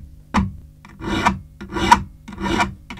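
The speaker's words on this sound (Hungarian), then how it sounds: "ezt is meg szoktuk igazítani reszelővel, rajzolatnak megfelelően megigazítjuk" A hand file rasps across a small flower sawn out of metal for a traditional button, four steady back-and-forth strokes, close and alone with short pauses between them.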